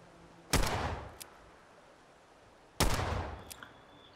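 Two sharp rifle shots in Fallout 4, a couple of seconds apart, each with a booming tail and a short echoing decay.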